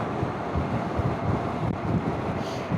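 Heavy wind buffets the microphone with continuous low rumbling gusts while riding a BMW CE-02 electric scooter. Loud and steady, with no engine note audible.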